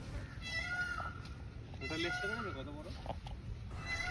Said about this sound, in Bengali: অনেক দিন পর এত পাখির ডাক শুনলাম, আর সাথে এই ময়ূরের ডাক